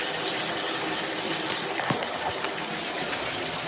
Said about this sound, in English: I'm just turning some warm water.